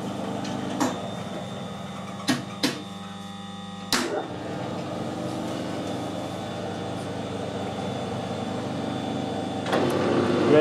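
Metal lathe spinning in reverse while cutting a left-hand internal ACME thread, a steady motor hum with a whining tone running throughout, broken by a few sharp clicks early on and a louder rise in the cut near the end.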